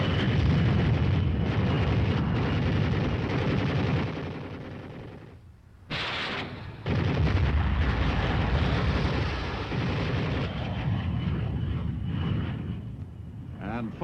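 Explosions from bombs and rockets in an air strike on archival film, dense and loud with rumbling blasts and crackling bursts rolling almost continuously, broken by one brief lull near the middle.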